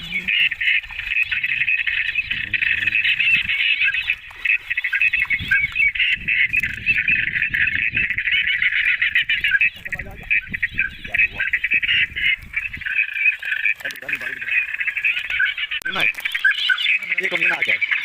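Geese and ducks honking and squawking loudly and continuously during a hunt with a Labrador dog, a dense overlapping chorus of calls close by, with faint voices underneath.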